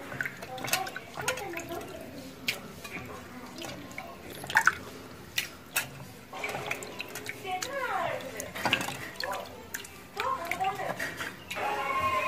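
Water splashes and drips as prawns are swished and rinsed in a bowl, with intermittent sloshing and trickling over a quiet background.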